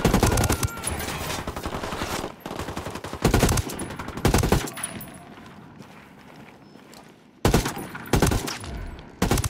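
Bursts of automatic gunfire in the Ghost Recon: Wildlands video game, loud rapid fusillades broken by short quieter gaps, with faint movement and background noise between volleys.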